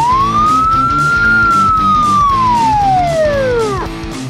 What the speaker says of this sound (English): Also has the siren.